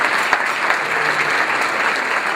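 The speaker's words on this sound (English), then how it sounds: "Can you guys give a big round of applause, please?" Sustained round of applause from a breakfast crowd at a chamber of commerce event, a dense, even patter of many hands, close and loud, with no talking over it.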